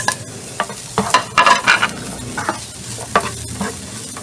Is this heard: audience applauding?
no